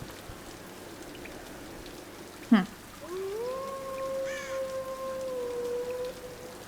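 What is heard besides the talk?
rain falling in the video game Tomb Raider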